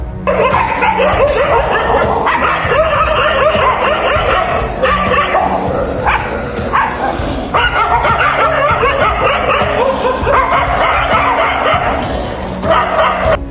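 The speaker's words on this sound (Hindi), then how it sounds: "कुत्तों का रोना बुरा होता है" Several dogs yelp, whine and bark in a dense, continuous chorus throughout, loud and close, with overlapping cries and no clear pauses.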